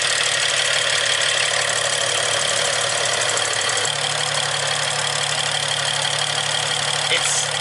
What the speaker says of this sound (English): so far everything sounds normal, but there's this ticking sound